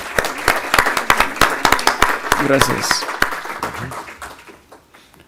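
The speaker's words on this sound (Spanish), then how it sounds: "Un aplauso, por favor" An audience at a university-style conference lecture on the semiotics of televised migration news claps in a dense, lively burst that thins and fades. A voice briefly thanks the crowd over the clapping.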